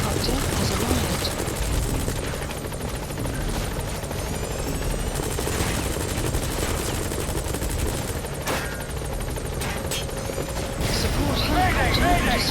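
A support helicopter in Metal Gear Solid 5 thuds loudly and continuously with heavy rotor noise, mixed with bursts of gunfire and game sound effects, while voices talk over it.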